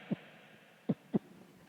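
A mimicry performer at a Punjab Agricultural University youth festival voices a pounding heartbeat: three low, soft thumps, one alone and then a close pair, with no talk around them.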